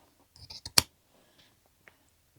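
Scissors snip through denim fabric for a jacket sleeve, giving a quick cluster of a few crisp close cuts followed by quiet with a faint later click.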